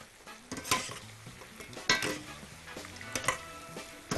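Bread cornets frying in a pan are stirred and turned. Irregular scrapes and clinks of a utensil against the pan sound over a soft background sizzle, close and fairly quiet.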